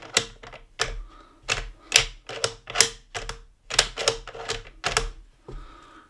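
Rifle bolt worked repeatedly on a bench while being readied for the range: a series of sharp metallic clacks and slides in quick irregular bursts, close and fairly loud, with no talking.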